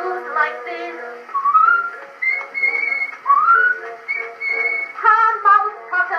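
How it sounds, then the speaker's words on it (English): A tuneful whistled melody on an Edison Amberola 30 phonograph record played through a guitar amp, with phrases rising and falling over a faint accompaniment, steady and fairly loud. "when she whistled like this"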